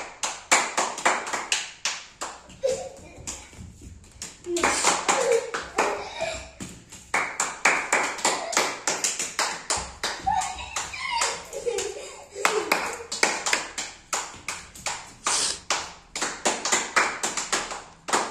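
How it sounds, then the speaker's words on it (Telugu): Children clapping hands at an outdoor gathering, sharp irregular bursts of claps that come and go in waves, with a nearby adult voice and kids chattering between and over them. "క్లాప్స్ కొట్టండి, క్లాప్స్ కొట్టండి, క్లాప్స్."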